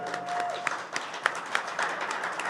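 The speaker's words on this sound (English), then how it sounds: "Listen to that round of applause." A crowd claps steadily in a brief, warm round of applause with a few sharper claps standing out.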